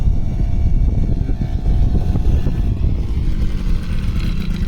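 Endurance moped engine running close up, a steady low buzzing drone with a rattling chain-like roughness, holding an even level throughout with slight fluctuations in load.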